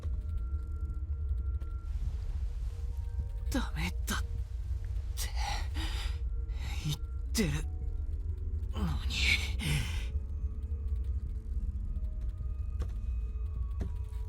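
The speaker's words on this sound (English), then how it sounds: "My gasping breaths carry no trace of human warmth." Breathy gasps from the visual novel game Tsukihime come in several short, separate bursts with creaky, strained edges over a low constant rumble, fairly close and with no talking.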